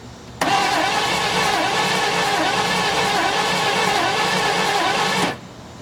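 The starter cranks the engine of a 1972 Chevelle Malibu in one continuous burst of about five seconds, a loud, even rhythmic churning that never catches, then stops abruptly.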